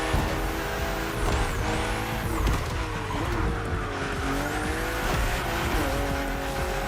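Race cars on a narrow, twisting track in the video game The Crew Motorfest: several engines whine and rev together at high pitch, rising and falling through gear changes, with tires squealing through sharp bends, loud and continuous.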